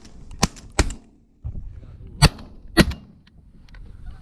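Shotguns fire during a waterfowl hunt: four sharp, loud blasts close by, two in quick succession and then two more after a short gap, with low background noise between them.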